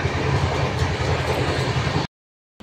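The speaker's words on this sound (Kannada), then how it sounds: "ಈಗ ನಮ್ಮ ಟ್ರೈನ್ ಬಿಟ್ಟೈತಿ" A train pulls out of Kalaburagi station bound for Delhi, with a steady, loud rumble of wheels and carriages that stops abruptly near the end.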